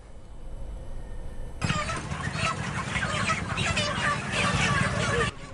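Chickens clucking and squawking from a crashed truck carrying poultry on the Periya Kallaru bridge in Batticaloa, a busy chorus of fowl rising suddenly over a low engine rumble, with voices mixed in.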